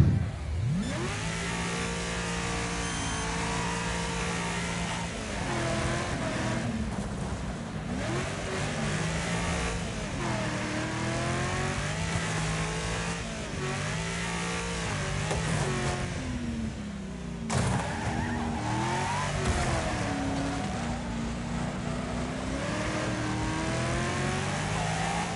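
A race car engine in Wreckfest revs steadily and close, pitch rising and falling through gear changes over a long stretch of driving, with no talk over it.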